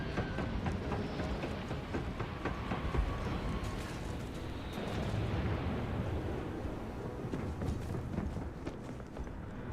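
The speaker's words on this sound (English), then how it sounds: "Oh, the ship's landing." A spaceship sets down in Starfield with a steady, loud roaring rumble of engine thrust that swells slightly midway, a continuous near wash of noise with no talk over it.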